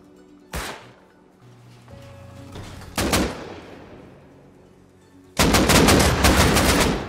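Bursts of AK rifle fire in the survival game Rust, loud and close: a single sharp shot, then another, and finally a sustained rapid automatic burst rattling at the end, with no talking.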